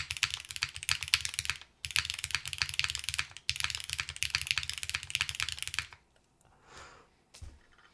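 Fast, dense clacking of a Velora TKL mechanical keyboard sounds close and crisp in three bursts with brief pauses, then trails off into quiet with a few stray clicks.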